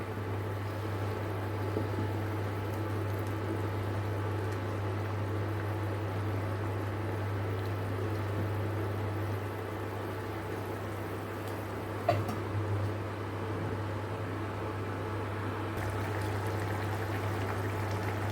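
Onion gravy simmering in a pot on a village cooking fire, giving a steady low bubbling hiss with a constant hum underneath and one brief clink partway through.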